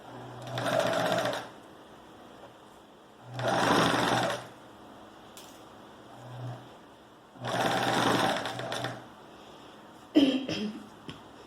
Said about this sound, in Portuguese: a gente dá uma paradinha na máquina, abaixa a agulha, levanta o calcador